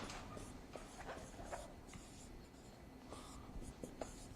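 Pen or marker scratching and tapping in short strokes across a writing surface while working out a quantum computing math problem, close and fairly quiet, with no talk.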